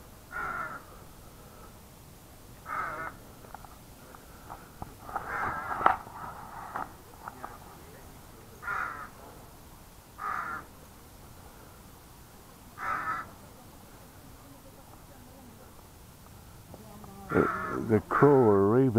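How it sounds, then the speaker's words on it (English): A crow or raven calls repeatedly from somewhere nearby outdoors on a walk, its harsh caws coming every few seconds over faint background noise. "The crow or raven up here somewhere is just giving everybody heck."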